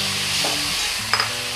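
Boiled taro leaves get stirred with onion in a frying pan, making a brief crackling sizzle with soft scraping strokes and a small clatter near the end.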